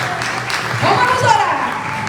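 A church congregation applauds to welcome an apostle, the clapping a steady broadband wash mixed with a voice and a faint musical tone throughout, swelling slightly toward the middle.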